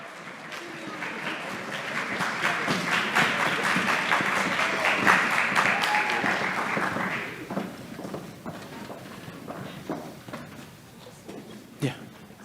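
Audience at a spring band concert applauds the honor band students, a broad dense clapping wash with cheering that swells for about seven seconds, then thins into scattered claps and a few louder individual claps near the end.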